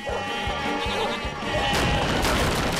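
Goats driven in from a village, bleating in a loud busy jumble with repeated low thumps and clatter, growing louder and denser in the second half.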